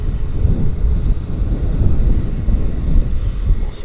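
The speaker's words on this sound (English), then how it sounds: "I was wondering if we were able to squeeze this Zipair departure in" A Zipair airliner departs Vancouver YVR airport, its jet engines producing a loud, steady roar that fills the air, with some wind buffeting heard on the microphone.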